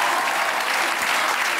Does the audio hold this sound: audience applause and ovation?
yes